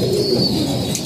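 Soft, continuous cooing from a flock of racing pigeons, a close, low burbling drone with a faint flutter near the end and no talking.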